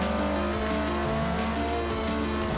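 A Ferrari Enzo in Forza Motorsport 4 runs at high revs with a steady, loud engine drone and a brief tire squeal, filling the whole stretch without pause.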